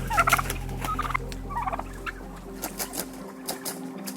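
Turkeys gobble and cluck repeatedly in a crowded free-range barn, several rapid warbling calls at close to mid distance over a low constant machinery hum, no talk.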